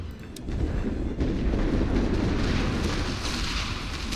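Heavy artillery in a WWI trench-warfare video game unleashes a dense, rumbling barrage, a loud continuous roar of low booms that swells and holds without break, no talk over it.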